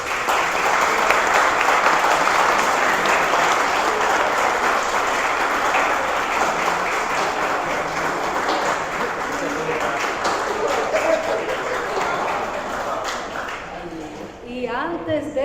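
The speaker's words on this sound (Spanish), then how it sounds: "vamos a darle otro aplauso a los expositores" A university colloquium audience gives the speakers a long round of applause, a steady wash of many hands clapping for about fourteen seconds before it dies down, with a few voices near the end.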